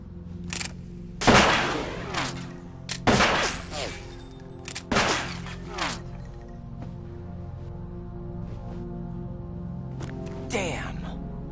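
Gunfire in the Metal Gear Solid 2 video game comes as several sharp, loud bursts of shots at irregular intervals, each followed by a brief ringing tail, with steady game sounds underneath.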